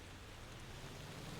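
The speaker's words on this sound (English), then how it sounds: "Oh no, this seems to be legit rain." Rain falling in the Motor Town driving game, a steady soft hiss of broadband noise with a low rumble underneath, continuous and even throughout.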